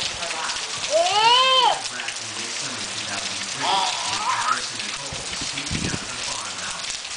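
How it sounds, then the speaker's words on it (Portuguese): Steady rain falling during a rainstorm, a dense hiss of drops that runs the whole time, with a voice calling out briefly over it. "tá chovendo"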